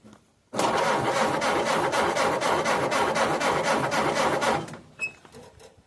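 A Ford Model A engine with a distributor ignition upgrade cranks with throttle but no choke: a loud, steady rhythmic churning of the starter for about four seconds that stops without the engine catching.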